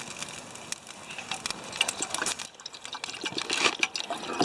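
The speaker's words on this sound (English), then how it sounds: "We're going to need some more water in there." Water pours into a camping canteen kit, a continuous trickling and splashing with small irregular surges, fairly close and moderately loud.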